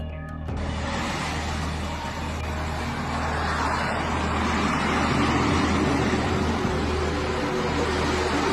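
A heavy truck stuck in thick mud with its wheels spinning gives a loud, steady engine roar and low drone that builds slightly over several seconds, with a grinding, noisy texture and no talk.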